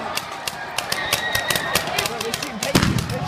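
Rapid bursts of gunshots, reportedly blanks, crack out during a street riot after a WVU football win over Baylor, sharp repeated pops over a noisy crowd with voices talking throughout.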